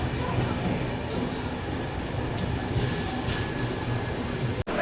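The Utkal Express, running nearly three hours late, rumbles into Meerut station with a steady low rolling drone and faint rhythmic clatter, moderately distant, with faint background voices.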